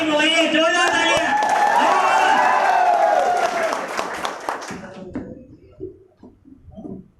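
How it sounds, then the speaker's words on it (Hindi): Clapping from an audience at a team achievement gathering rises with voices and crowd noise over it, staying loud for about four seconds before thinning into scattered claps and fading. "जोरदार तालियां"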